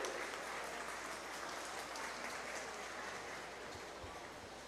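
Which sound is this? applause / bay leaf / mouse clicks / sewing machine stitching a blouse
applause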